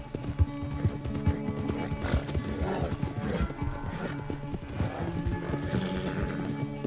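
A horse gallops hard in Red Dead Redemption 2, with fast, heavy hoofbeats close by, a whinny partway through, and outdoor game sounds underneath.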